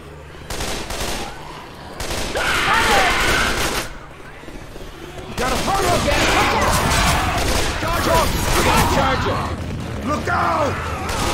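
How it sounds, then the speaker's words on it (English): A chain gun in Left 4 Dead 2 fires in long continuous bursts, a dense loud roar of rapid shots with a short break in the middle, mixed with game effects and voices. "Chain gun here."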